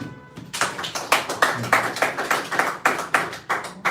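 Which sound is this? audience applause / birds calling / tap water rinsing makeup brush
audience applause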